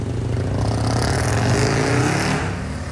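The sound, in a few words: Ferrari 812 GTS supercar engine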